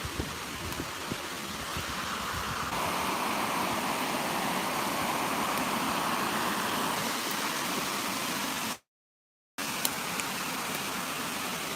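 A small waterfall rushes steadily and loudly nearby, a dense continuous roar of falling water that fills the whole clip, broken only by a brief dropout near the end.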